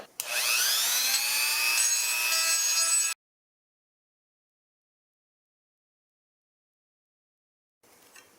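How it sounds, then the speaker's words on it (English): A rotary grinder cuts out a metal ring inside the aluminum front brake master cylinder of an RZ350 motorcycle, making a loud, high, rising whine for about three seconds. Silence follows, with a faint hiss at the very end. "I'm going to try to slowly grind a little piece of it out."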